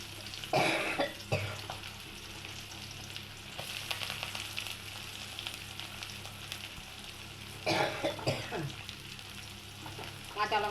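Chopped onion frying in hot oil with garlic in a pan, a steady close sizzle with bursts of louder crackling and stirring scrapes, no talk.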